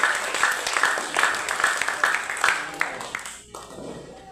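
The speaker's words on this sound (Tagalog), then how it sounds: "Palakpak para sa Ginoo." Church congregation clapping in praise during a sermon, brisk rhythmic applause that stays steady for a few seconds then fades out.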